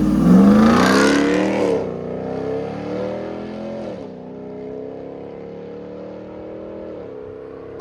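A RAM TRX truck with Flowmaster Outlaw exhaust drives off, opening with a loud close revving roar that rises in pitch, then settles into a fading, steady lower drone as it pulls away.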